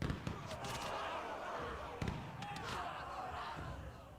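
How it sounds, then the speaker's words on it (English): Artillery bombardment in the strategy game We. The Revolution, faint distant booms and thuds scattered over a low rumbling battle bed, two sharper impacts standing out. "So we're bombarding them with artillery."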